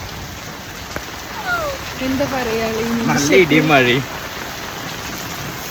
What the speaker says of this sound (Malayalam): പിറന്നാളായിട്ട് മഴയാണ്.